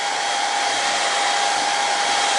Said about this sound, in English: To do that, I'm going to use a hair dryer.